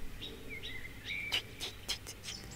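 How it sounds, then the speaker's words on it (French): A bird sings alone in short bursts, repeating bright whistled notes and chirps with brief pauses between phrases, fairly close against a quiet background. "c'est un chant assez semblable à celui du merle"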